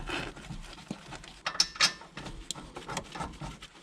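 Caliper bolts being started by hand on a 1997-2005 Lexus GS300 front brake, heard as quiet, scattered metallic clicks and small ratcheting taps close by, with no talking.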